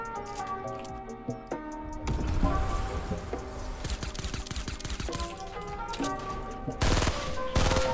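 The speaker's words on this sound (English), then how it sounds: "I'm gonna shoot this guy's body." Rapid Fortnite gunfire crackles in dense bursts over the game's music and effects, with a heavier volley near the end.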